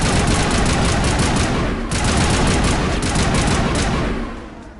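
Loud, continuous assault rifle fire in the video game Mass Effect 1, sustained bursts filling the scene with no talk over it.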